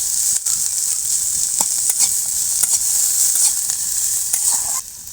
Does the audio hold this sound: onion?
yes